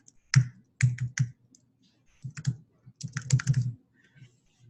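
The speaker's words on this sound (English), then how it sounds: "Now every time I type," Close keystrokes on a computer keyboard come in short bursts of clicks separated by brief pauses, crisp and fairly loud in an otherwise quiet room.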